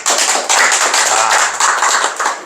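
An audience claps at a health-product presentation, producing loud, dense, continuous applause that keeps going with little break.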